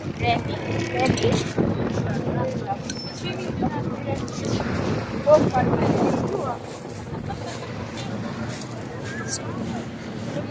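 A hired outrigger boat (bangka) carries a small tour group across the sea near Dingalan, its engine and water noise running steadily throughout with wind buffeting the microphone, while people talk over it.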